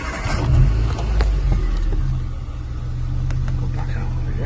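A 2010 Nissan Micra 1.2 Acenta engine cranks, catches and settles into a steady low idle, rumbling close by in a garage.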